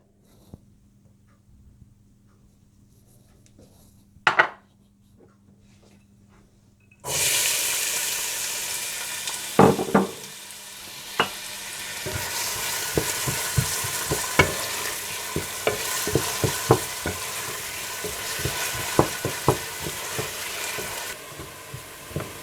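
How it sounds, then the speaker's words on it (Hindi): After a few quiet seconds and a brief knock, a loud sizzle bursts in as onions hit hot oil, browning and frying steadily with occasional scraping and stirring. "तेल गरम करें और इसमें प्याज डालकर हल्का सा ब्राउन कर लें"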